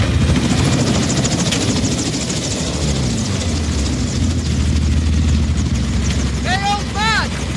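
A helicopter in the Call of Duty video game, its loud heavy rotor drone thudding steadily and close, with game sound effects and a short chirping burst near the end.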